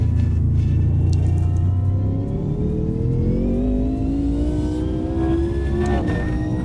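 A GT1 race car in Automobilista 2 accelerates out of a corner at Donington Park, its engine note climbing steadily in pitch as it revs up, loud and continuous against a low rumble, with no talking.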